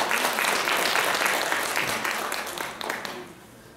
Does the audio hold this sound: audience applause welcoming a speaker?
yes